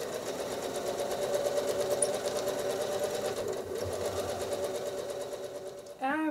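A sewing machine runs steadily through free-motion quilting on a glass art design, its needle chattering evenly and close throughout, with a brief shift right at the end.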